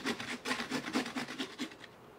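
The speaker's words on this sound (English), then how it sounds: "grate your carrots and grate all 4 of your carrots" Carrots being grated by hand against a grater for a carrot cake, a close, steady rhythmic rasping of repeated strokes about four per second, with no talking.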